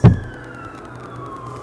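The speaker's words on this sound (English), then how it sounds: "I'm hearing an ambulance in the background." An ambulance siren wails faintly in the distance, its tone slowly sliding, after a brief thump at the start.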